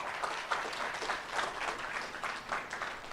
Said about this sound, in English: give them a round of applause, guys, because they do great work